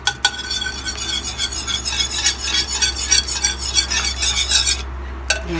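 An egg being beaten with a utensil for hotcake batter, giving rapid, steady rhythmic tapping and scraping against a bowl, close and fairly loud, stopping briefly near the end.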